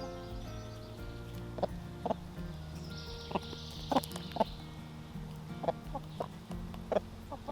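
A broody hen, upset and angry, clucks in a series of sharp, separate calls over a steady low background murmur, with several louder squawks standing out near the middle.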